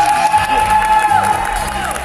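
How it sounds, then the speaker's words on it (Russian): An audience at a Latin dance competition applauds and cheers, a loud crowd roar of clapping and whoops with a sustained tone running underneath. "Уважаемые зрители, а где аплодисменты?"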